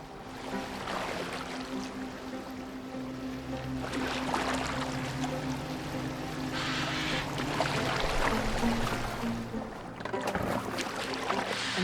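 A wooden boat glides over water in a Viking-era setting from Assassin's Creed, with steady lapping and wash of water against the hull throughout, while voices speak over it.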